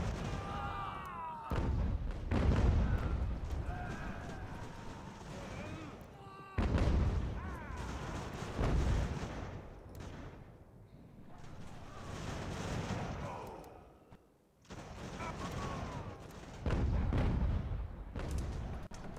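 Cannons fire canister shot in Ultimate General: American Revolution, booming in heavy repeated volleys with rumbling battle noise in between, while someone talks over the gunfire.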